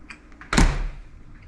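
An old refrigerator door in a bunkhouse shuts with a single close, heavy thud and a short rattle, with quiet room tone before and after.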